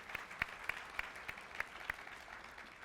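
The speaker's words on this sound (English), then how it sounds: "now that deserves an applause" At a Google DeepMind fireside chat event in Korea, a small audience gives sparse, faint applause. About seven distinct claps land at an uneven rhythm and fade out toward the end.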